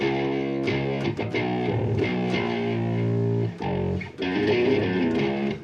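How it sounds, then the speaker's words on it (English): A gritty bass guitar, distorted through a bass processor in a recording studio, plays a chugging groove of repeated notes, loud and close, with a short break near the end. "I've plugged it into a bass processor down here, added a bit of distortion"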